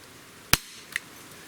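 A single sharp crack from a SIG Sauer SP2022 pistol fired over a chronograph, fairly distant and alone, followed by a faint short clink.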